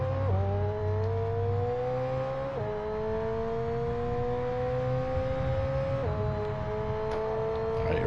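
McLaren F1 car engine in F1 22 screaming at high revs, its pitch climbing steadily through each gear before dropping sharply at two upshifts, loud and continuous with no talking.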